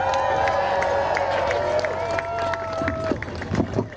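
A crowd at an outdoor political rally cheers and applauds, a steady roar of voices and clapping under a sustained tone, easing off toward the end.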